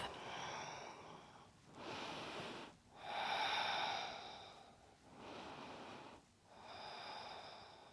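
Slow, deep breathing during a hip-opening vinyasa yoga flow, with long audible inhales and exhales in a steady rhythm, close and soft, about five breaths with no talk.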